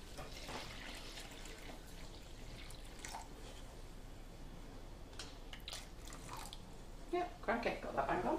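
Water being poured and measured out for macaron batter in a kitchen, a soft trickling and dripping with splashes, with a voice talking over it.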